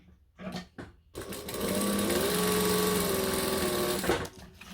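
A sewing machine runs steadily for about three seconds, basting fabric down through strips of double-sided tape for a clutch, preceded by a few short handling noises.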